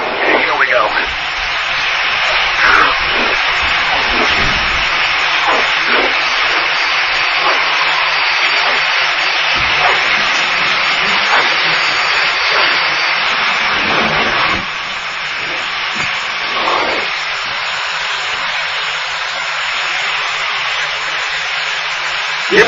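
Jet aircraft engine roaring steadily with afterburners lit, a loud continuous broadband rush that holds for the whole stretch, with faint radio-style voices talking underneath.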